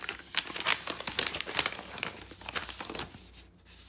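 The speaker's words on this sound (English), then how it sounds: "Let me get this paper off here." Paper wrapping is torn and pulled off a resupply package on the Appalachian Trail, producing close, loud bursts of crinkling and crumpling that run continuously for several seconds with no talk.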